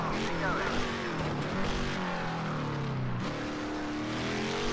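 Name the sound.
race car engine at full throttle in a Daytona racing video game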